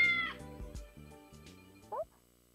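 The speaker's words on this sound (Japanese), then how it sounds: "でも確かに猫の声が聞こえたんだけど。" A kitten meows in a Girlfriend (Kari) game scene, a short high cry near the start, then a second brief mew near the end, over soft background music.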